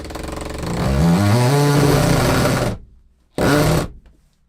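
A power driver running screws back into a DIY campervan, a loud whining motor rising in pitch for about three seconds, then a short second burst, close by with no talk.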